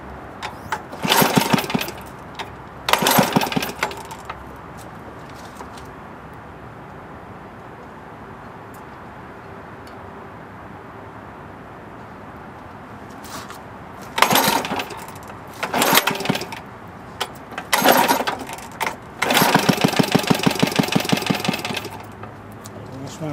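A small, seized-then-restored Briggs & Stratton lever engine cranks in several short, loud bursts separated by pauses, sputtering briefly without catching, then a longer sustained burst near the end.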